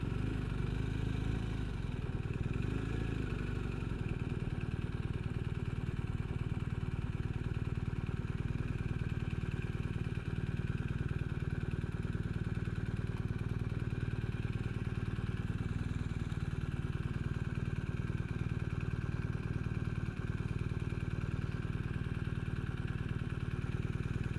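A BMW R 1250 R motorcycle engine runs steadily while the bike is being parked, a low continuous drone with some mechanical clatter, near and fairly even throughout, with no talk.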